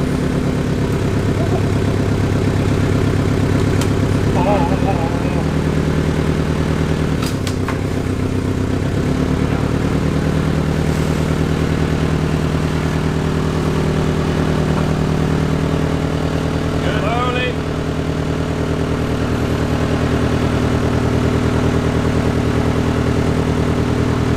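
Giant Chinese diesel V-twin engine fitted to a go-kart, running at a steady loud idle throughout with a constant low drone and occasional clanks of nearby handling.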